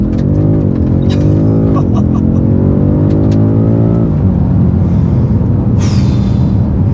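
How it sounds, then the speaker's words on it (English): BMW M5 Competition doing a launch-control start with stability off, the engine note rising hard through the gears with a clear upshift, then a steady loud roar as the car pulls away. "It makes your heart race because of how fast it launches."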